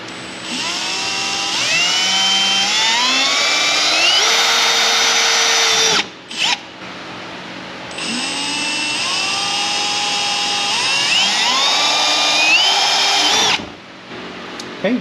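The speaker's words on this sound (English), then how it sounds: "we're going to go ahead and drill in" A power drill bores into a Hobie Pro Angler kayak in two long, loud runs. The motor pitch climbs and wavers as the bit bites, and each run cuts off abruptly.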